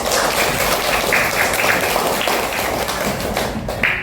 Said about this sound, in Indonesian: tepuk tangan dulu untuk Iren.